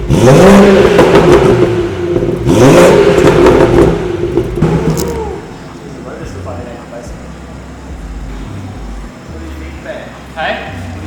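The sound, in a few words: BMW 440i B58 engine with Pure 800 turbo starting and revving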